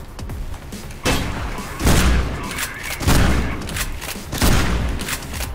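Loud gunfire rings out in Mirror's Edge, four heavy booming shot bursts spaced about a second apart, each with a rough echoing tail over background game noise.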